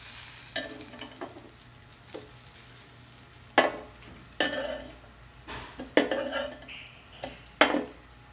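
A burger patty sizzles quietly in a frying pan during home cooking, with a low constant hiss under repeated scraping and clinking of a spatula or utensil against the pan at irregular intervals.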